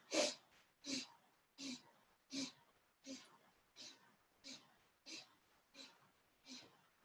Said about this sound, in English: So inhale, sniffing in 10 times.